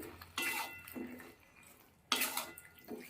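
Turmeric and spices stirred into a pan: two bursts of metallic scraping and clinking, each trailing off, separated by a quieter gap.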